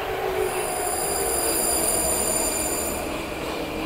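A Prague metro 81-71M train pulls into a station on the line toward Hostivař depot, giving a steady loud rumble with high squealing wheel tones above it and no voices.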